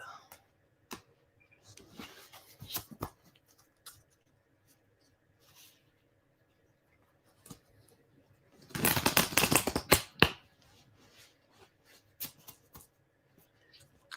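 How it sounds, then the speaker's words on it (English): Quiet, intermittent rustling and taps of tarot cards being handled, then a short burst of riffle shuffling in the middle, with scattered soft clicks afterward. "I'm going to shuffle this deck and I'm going to pull some tarot cards for JR for a relationship reading."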